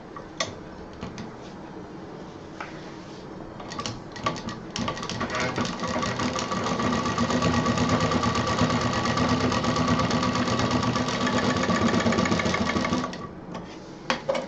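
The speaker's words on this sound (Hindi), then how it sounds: "सिलाई पूरी अंदर दबा देंगे और इस पर मशीन चला देंगे" A sewing machine runs a seam through pink fabric for a purse, a steady rapid ticking hum that builds for several seconds, holds, then stops, with a few handling clicks before and after.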